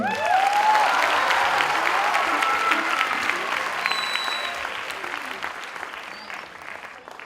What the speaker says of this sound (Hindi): और ये महफिल तब सजती है जब जोरदार तालियां बजती है